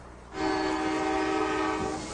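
A freight train passing through a small Ohio town sounds a long, loud, steady horn blast over the rumble of the rails, close by and with no voices.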